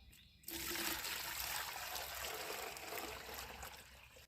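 Rainwater poured onto freshly set young sweet potato plants in a garden: a steady, close splashing and trickling stream that starts abruptly and runs unbroken for several seconds.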